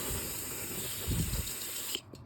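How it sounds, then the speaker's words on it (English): Aerosol can of brake cleaner sprayed during a turbo install on a WRX hatchback, a steady close hiss that cuts off abruptly near the end. "Don't worry about me spraying brake clean here."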